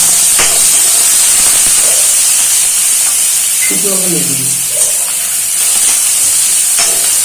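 Chopped onions frying in a pan at an outdoor village-style picnic cookout, giving a steady loud hiss and sizzle throughout, with a few brief voices and clatter mixed in.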